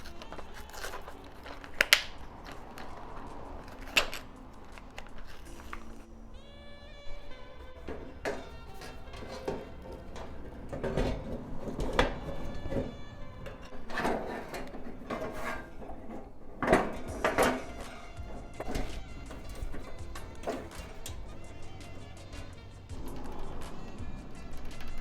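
Someone assembles a Blackstone 28-inch griddle, fitting the bottom tray in place with screws. Scattered metallic clanks, knocks and rattles sound close by at an irregular pace, with occasional brief squeaks from the metal parts.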